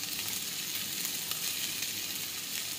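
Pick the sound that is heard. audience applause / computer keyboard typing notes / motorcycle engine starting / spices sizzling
spices sizzling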